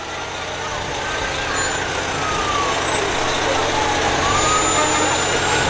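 A Toronto fire engine rolls past during a Christmas parade, a steady broad engine rumble and crowd-street noise holding at a constant moderate level throughout.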